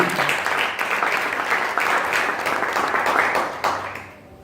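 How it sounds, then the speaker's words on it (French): A church congregation clapping during a thanksgiving service, a steady wash of applause that runs for a few seconds before tapering off at the end. "Clap for the God that spoke"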